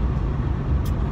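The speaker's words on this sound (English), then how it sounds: "Driving down the interstate right now." Steady road and engine rumble of a car driving down the interstate, heard from inside the vehicle in a brief, even stretch.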